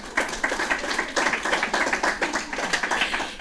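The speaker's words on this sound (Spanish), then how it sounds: "Venga, fuerte aplauso." Audience applause at a falla event honouring a Fallera Mayor in Valencia; a crowd claps steadily throughout, with rhythmic bursts of hand claps that are moderately loud and sustained, and no talk over it.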